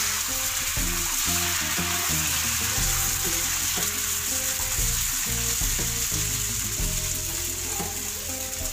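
Dosa batter sizzles loudly on a hot pan, a continuous close hiss with some scraping underneath and no talk.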